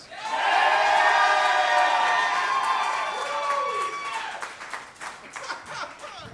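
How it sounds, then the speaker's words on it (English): An audience at a live comedy show cheers and whoops loudly, then the noise thins into scattered hand clapping that fades toward the end. "you want to hear more jokes from Drew Davis, clap your hands."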